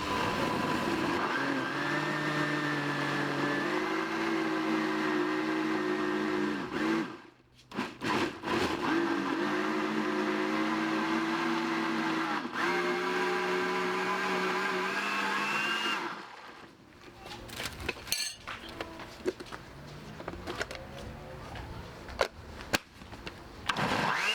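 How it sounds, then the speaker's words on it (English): A blender whirs loudly while blending green juice ingredients, its motor pitch shifting as the contents churn, stopping briefly twice before a final stretch of clattering and knocking. "we're going to just blend on this to a little bit"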